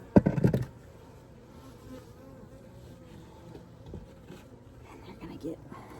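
Honey bees buzz continuously around a horizontal Layens hive, with a dense steady hum close by and a brief louder rustle of handling at the start.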